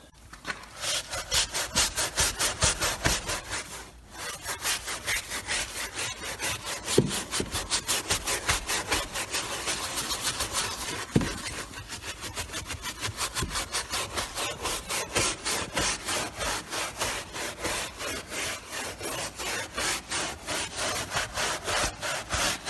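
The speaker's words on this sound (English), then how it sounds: "So I'm going to go ahead and scrub this off" A brush scrubs dry carpet and fabric cleaner into C4 Corvette upholstery, producing rapid, rhythmic, close rasping strokes that repeat steadily throughout with a brief pause early on and no talking.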